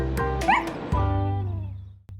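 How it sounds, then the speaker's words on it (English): A dog whimpers and yips while being petted, several high, wavering whines and short yelps up close, followed by a sustained sorrowful whine that fades out. "It's the first dog I've ever petted."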